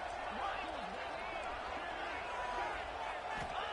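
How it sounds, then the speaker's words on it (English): Football stadium crowd roaring as the defense tries for a stop near the goal line, a continuous loud wash of cheering and noise with sporadic thumps, under commentary. "And the crowd really making some noise now, trying to help out this defense to get this stop near the goal line."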